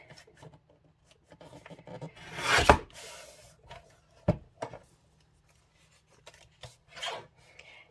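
Paper trimmed for an envelope window pocket makes scattered dry rasps and scrapes at close range, one longer sweep and several short strokes against a quiet background.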